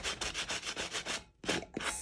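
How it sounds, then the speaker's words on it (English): Rapid rhythmic back-and-forth scraping of a sanding block on wood, with a brief pause before the strokes resume. "I'm just going to take my sanding block."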